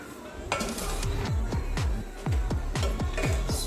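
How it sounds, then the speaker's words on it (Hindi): Chicken fried rice made with basmati rice is stirred in a pan, with a run of repeated scraping, clinking spatula strokes against the metal over a low, continuous sizzle. "राइस मिक्स करेंगे अभी।"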